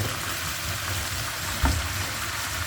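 Pieces of meat sizzle and fry in a spiced masala, a steady crackling hiss that holds at an even loudness, with a brief clunk midway, and no talking.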